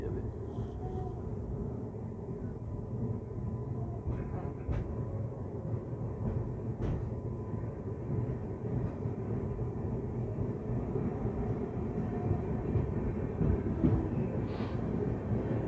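The Sealdah–Balurghat Express pulls out of Katwa station, a steady low rumble of wheels and carriage running throughout, with faint rattles and clicks over it and no voices.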